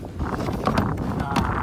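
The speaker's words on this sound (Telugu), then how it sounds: "గాలి సౌండ్." Wind buffets and rushes across the microphone in uneven gusts, a low, blustery roar for a brief moment.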